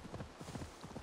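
Rapid clip-clop of horse hooves in the video game Assassin's Creed Valhalla beats in a quick, even rhythm, fairly faint against a soft background.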